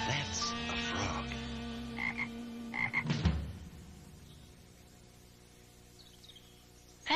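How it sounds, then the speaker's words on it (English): A frog croaks in a 2002 children's TV channel commercial break: loud, close, tonal croaks fill the first three seconds, then a trailing ring fades to near quiet, with no talk over it. "Now that's a frog."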